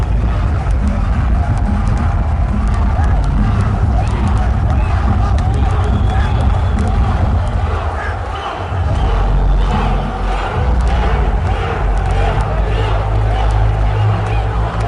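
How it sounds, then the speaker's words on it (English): A deafening crowd at a boxing match roars in a dense, continuous wall of noise that stays loud throughout, dipping only briefly near the middle. "The crowd is deafening."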